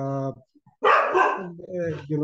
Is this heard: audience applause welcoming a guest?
no